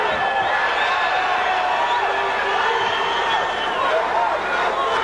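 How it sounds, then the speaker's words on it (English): A 1985 boxing match crowd roars and cheers continuously for a 19-year-old fighter after an upset, a dense sustained arena din with voices mixed through it. "Just listen and enjoy how much this crowd appreciates this 19-year-old."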